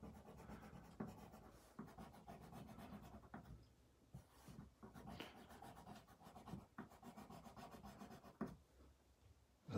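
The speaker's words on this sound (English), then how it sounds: "So just shading away" A pencil shades hair on A3 cartridge paper, with close, soft scratchy strokes rubbing back and forth in irregular bursts, faint and intimate with no voices.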